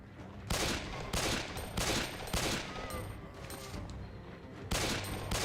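Gunfire in the Resident Evil: During the Storm demo, loud repeated bursts of shots in uneven groups running through the whole stretch, with no talk over them.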